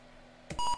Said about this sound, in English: Just beeps.